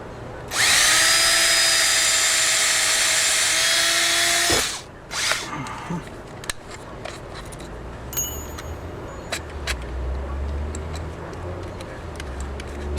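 A power drill bores a single hole while building a shed workshop platform, running loud and steady for about four seconds, then stopping. Clicks, taps and handling noises follow.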